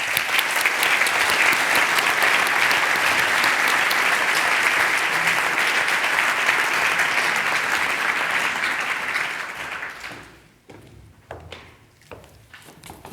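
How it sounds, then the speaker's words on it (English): A large audience applauds a keynote speaker, Professor Dr. Stephanie M. Jones, with a loud sustained roar of clapping for about ten seconds that then fades into scattered claps and footsteps. "A big applause, großen Applaus für Professor Dr."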